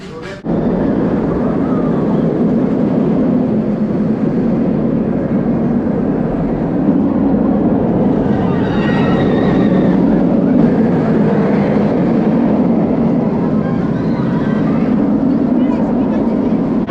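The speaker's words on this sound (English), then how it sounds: "we're gonna be heading to that red B&M coaster back there, Flight Deck" A ride on Flight Deck, a red B&M roller coaster at California's Great America in Santa Clara, brings a loud, constant roar of wind and track rumble, with riders' voices mixed in.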